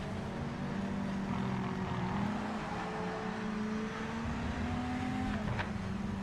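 A race car engine in the Project Motor Racing game holds high revs with a steady buzzing whine, pitch sliding slightly as it shifts, continuous and moderately loud.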